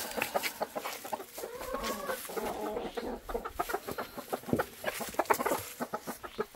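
Chickens cluck repeatedly in short, uneven bursts, close by, with some louder squawks mixed in.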